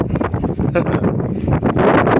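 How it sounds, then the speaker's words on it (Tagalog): Strong wind at Malico, Pangasinan, buffets the microphone in continuous loud gusts, with rustling and roaring throughout. "Oo, lakas ng hangin."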